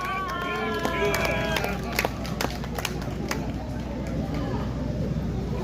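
A rally crowd claps steadily in dense, continuous applause, with scattered voices and cheers mixed into the wash of sound.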